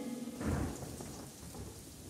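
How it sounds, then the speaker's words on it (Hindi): Rain and thunder from a storm: a deep thunder rumble swells near the start over a steady wash of falling rain that continues evenly to the end. "जब सिंड्रेला और शहजादा लियो महल से बाहर आ गए तो बारिश होना शुरू हो गई"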